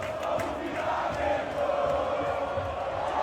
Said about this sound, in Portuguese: a torcida do Flamengo explode lá na Filadélfia